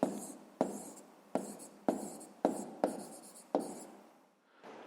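A pen writes by hand on paper in short, even strokes, each a scratchy burst that fades, about seven in a row, close and clear with no talking.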